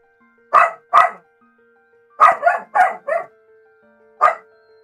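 Dog barking loudly in the video game Cristales, a series of sharp, close barks in short bursts: two single barks, a rapid cluster of four, then one more after a pause.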